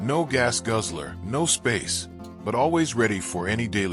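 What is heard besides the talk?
None of the usual background noises is heard.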